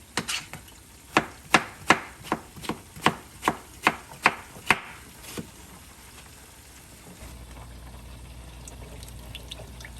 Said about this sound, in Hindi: टमाटर को भी कट कर लेंगे।